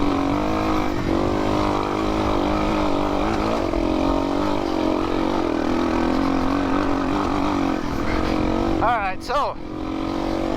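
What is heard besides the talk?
Yamaha TTR 230 dirt bike engine running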